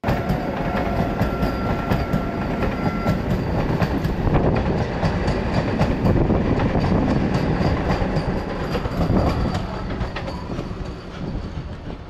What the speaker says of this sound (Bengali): দেখলাম পাটনা গোমতীনগর বন্দে ভারত এক্সপ্রেস আসছে, তাই সেটা ক্যামেরা বন্দি করলাম